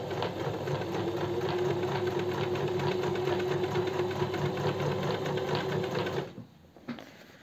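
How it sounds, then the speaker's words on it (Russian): A sewing machine stitches a straight seam parallel to the fabric edge, giving a loud, steady mechanical hum and rapid needle rattle that runs continuously for about six seconds and then stops abruptly, leaving quiet handling noise. "И прокладываю ровную строчку параллельно краю."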